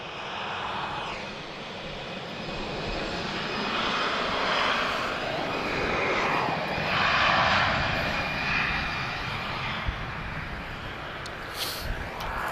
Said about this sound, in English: we've got A330, he'll be off to New York, JFK